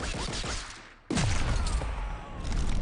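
Gunshots and fighting effects in the video game Injustice 2, loud rapid bursts and impacts with a sharp whoosh after a brief dip, dense and continuous.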